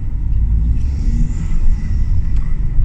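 Remapped Audi A4 turbo with no exhaust, heard from inside the car with the window down, giving a steady low rumble with a faint airy whoosh on top and no talk.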